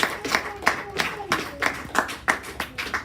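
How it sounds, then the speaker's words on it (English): Audience applause at a public speaking school event, heard as rhythmic, evenly spaced group clapping with roughly three claps per second, fairly close and moderately loud, with no talk over it. "So let's all give a big round of applause."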